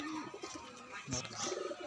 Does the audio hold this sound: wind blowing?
no